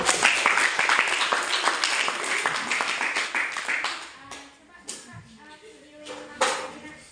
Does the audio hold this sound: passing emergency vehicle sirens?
no